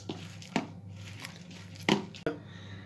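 Dough mixed with cinnamon being kneaded by hand, soft squishy presses and a few sharper slaps at irregular intervals over a low background hum, close by and with no talking.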